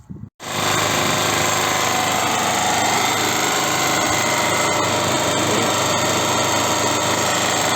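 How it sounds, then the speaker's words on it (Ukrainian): A Chinese petrol generator, the capacitor-regulated kind without automatic voltage regulation, starts after a short pause. It then runs on at a steady, loud, buzzing drone for several seconds with no speech. "запустю цей генератор і тут подивлюся, чи буде 220-230 вольт"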